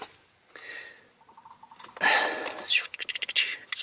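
Heavy, rough breaths rush in and out close to the microphone, ending in a quick run of short, snorting puffs.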